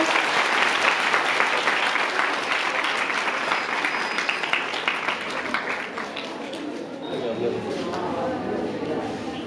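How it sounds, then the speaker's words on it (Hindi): Sustained applause from schoolgirls at a quiz competition in a girls' school, steady dense clapping filling the room for the whole stretch, with some voices audible underneath. "तालियां इसके लिए।"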